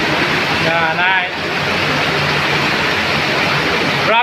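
Rapids of an underground river inside Lobo Cave in Samar, Philippines, roar in a loud, constant wash of rushing water, with brief voices over it.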